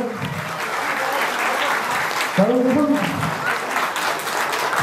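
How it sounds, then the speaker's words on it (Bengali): Loud applause from an audience at an art school's annual program rolls on steadily for Satyabrata, dense clapping throughout with someone speaking briefly over it midway. "একটু জোরে হাততালি হোক এই মানুষটার জন্য"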